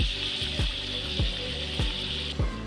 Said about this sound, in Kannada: ಇವು ಚೆಂದಾಗಿ ಡೀಪ್ ಫ್ರೈ ಆಗಲಿ.